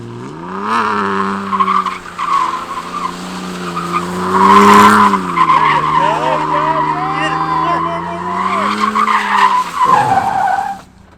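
A car drifts with wheel spin, tires squealing in long wavering shrieks over a loud, revving engine, close by, with voices talking throughout.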